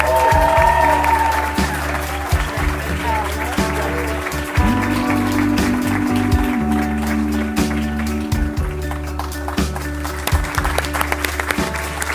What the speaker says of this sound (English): Let's give them all a massive round of applause.